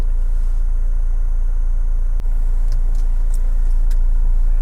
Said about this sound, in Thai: พอเรายกคัตขึ้นมา ระบบส่งกำลัง จะต่อกัน นะจะทำให้รถเราเคลื่อนไป ต่อได้